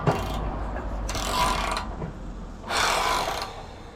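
A ratchet snugs up a half-inch bolt in a few short bursts of clicking with gaps between them, close by and fairly quiet, with no one talking.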